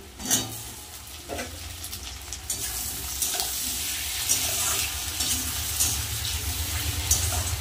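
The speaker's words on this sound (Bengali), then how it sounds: "এবার দিয়ে দেবো কেটে রাখা টমেটো আর কপিস আলু।" Chopped tomato and potato pieces go into a pan with lightly fried onion, setting off a steady sizzle and frying crackle that builds after an initial clatter, with scraping and stirring through the rest.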